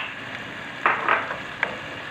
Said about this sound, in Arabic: دوك يتقلى لي مليح البصل مع الدجاج